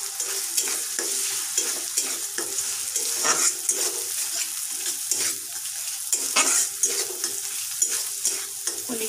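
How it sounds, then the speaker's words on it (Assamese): Eggs frying in a pan with onion and tomato give a steady close sizzle, broken by repeated scraping stirs of a spatula, with no talking. "কণীখিনিও ভাজি লম"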